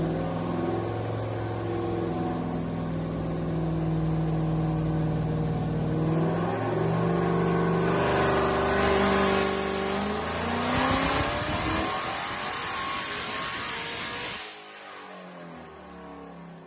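A 392 HEMI V8 revs up repeatedly toward 7500 rpm, its loud, close roar climbing in pitch over several pulls, then drops away sharply near the end.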